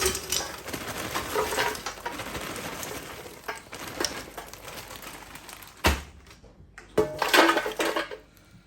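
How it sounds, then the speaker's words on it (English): Frozen chips rattling and scraping as they are poured into the drawer of a Tower 9-litre two-drawer air fryer, a busy clatter that eases off, then a couple of sharp knocks as the drawer is handled. "pour in some chippies."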